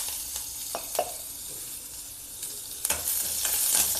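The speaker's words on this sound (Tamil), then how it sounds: "பூண்டு வச்சுருக்கேன், அதை தாளிச்சிக்கலாம்." Shallots and garlic tempering in hot oil with curry leaves: steady crackling sizzle, with a few sharp spoon scrapes and stirring knocks against the pan.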